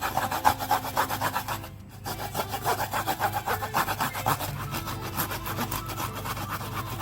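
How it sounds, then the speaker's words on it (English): Fresh ginger grated by hand in a kitchen, a steady rapid scraping rasp repeating in quick strokes, close and continuous for several seconds with no talking. "I'm going to grate the ginger."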